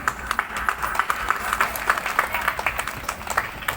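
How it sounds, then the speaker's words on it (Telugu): A crowd at a Hindu community gathering gives warm, sustained applause, many hands clapping in a dense, rapid patter that stays lively throughout. "మనం అందరం చప్పట్లతో వాళ్ళని సత్కరిద్దాం గట్టిగా."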